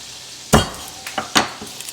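Garlic cloves get smacked to loosen their shells in a kitchen, with one sharp slap followed by a few lighter taps, close and loud against a quiet background.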